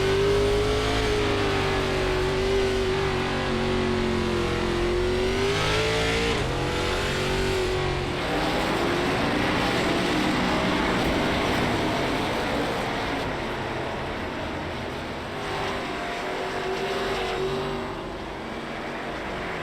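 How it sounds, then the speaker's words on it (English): Race cars at Thompson Speedway roar loudly and continuously through a race with spins and restarts, engines rising and falling in pitch as the cars pass, with no talking. "Harley Barletta spun the tires and was punted, causing chaos."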